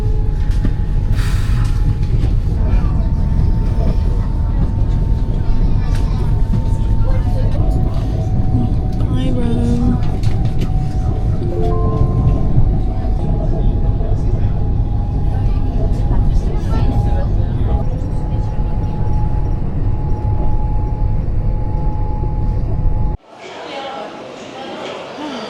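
A continuous low rumble of a moving train interior in Rome, with a steady hum and faint tones, cutting to quieter room sound near the end.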